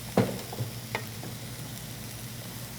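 Eggplant for sliders sizzles on a grill with a steady, close frying hiss, broken by a few light ticks and pops and no voices.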